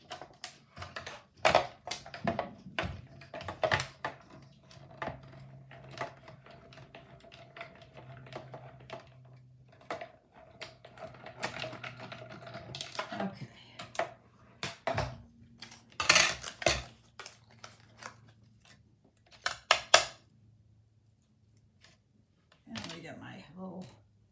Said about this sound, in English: I'm just using the mini Stampin' Cut and Emboss machine.